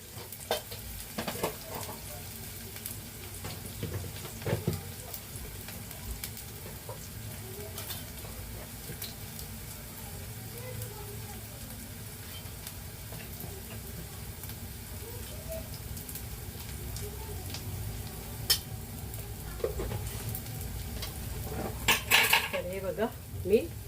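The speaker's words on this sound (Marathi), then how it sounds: "हे बघा कांदा आणि मिरची टाकले शिजवून घेते" Onion and chilli cooking in a pan for a masala gravy, with a soft steady sizzle under repeated scraping and clinking of a utensil against the pan.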